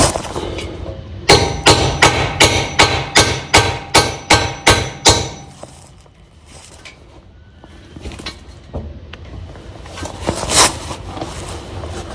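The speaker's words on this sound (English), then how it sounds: "Use a socket to tap on it." Metal-on-metal hammering on a socket to drive out a vehicle U-joint. About a dozen loud, rapid, evenly spaced blows come close up, then a quieter stretch of shuffling and handling, then a few more knocks near the end.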